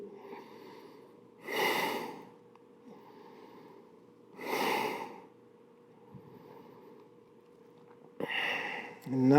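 Heavy breathing during a core workout: three loud, forceful breaths a few seconds apart, each a rushing exhale, with quiet, steady breathing between them.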